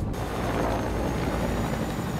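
A helicopter in a video game gives a dense, steady whirring roar that stays loud and unbroken from start to finish, with no talking over it.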